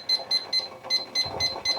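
A kitchen timer beeps seven times in a steady, evenly spaced pattern while pomegranate jelly is being made, fairly quiet, with faint kitchen noise underneath.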